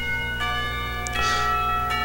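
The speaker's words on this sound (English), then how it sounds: "The clock tower bells ring, signifying the end of the period." Clock tower bells at a school in the game Katawa Shoujo, sustained ringing tones with a couple of fresh strikes layered over a constant hum, moderately loud with no voices.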